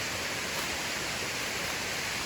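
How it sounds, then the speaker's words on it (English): A small waterfall cascading into a little pool along a wooded hiking trail in a Tennessee state park, heard as a steady, even rushing hiss of falling water, with no voices. "another little cascade there that goes into that little pool"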